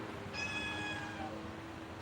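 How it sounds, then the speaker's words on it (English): A special needs cat gives a single drawn-out meow, fairly faint over steady background hiss. "our special needs cat."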